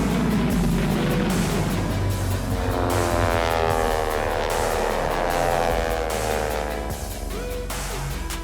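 A remote-controlled propeller plane at a flying competition drones loudly and steadily close by, its buzzing pitch sweeping as it passes, with no voices.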